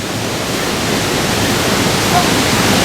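Bushkill Falls in Pennsylvania pouring down over rocks, a loud, continuous broadband roar of rushing water, close and steady throughout without any break.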